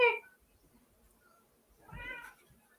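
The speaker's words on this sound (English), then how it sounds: "There's another black cat that's mean." A cat meows once at the start, loud and close, with a second, longer meow near the end. The house holds several pets, including a black cat, and no one talks.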